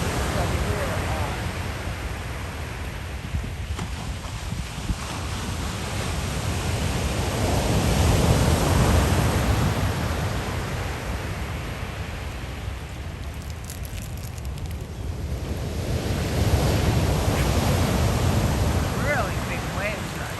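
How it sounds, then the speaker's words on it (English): Big ocean waves roll in on a windy stretch of the Northern California coast near Fort Bragg, a steady broadband roar that swells and surges loudly around the middle and near the end. "Really big waves right here."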